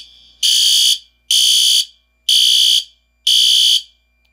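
System Sensor SpectrAlert Advance fire alarm horns set to sync, blaring four loud, even half-second blasts with short silent gaps between, alone and close.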